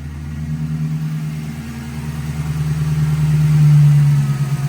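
A Ford Crown Victoria's engine runs steadily after a throttle body cleaning and new spark plugs and coils, a smooth, even low hum that swells slightly near the end, with no talking.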